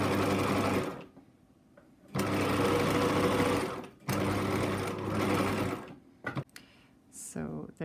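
A domestic sewing machine runs a zigzag stitch on fabric with loosened tension, whirring loudly in three long bursts with pauses between them and a few short clicks and handling sounds near the end.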